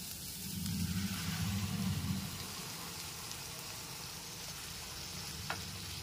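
Masala frying in a pan while almond and charmagaj (melon seed) paste is stirred in for an egg curry, giving a soft steady sizzle with a brief low scraping stir near the start and no talk.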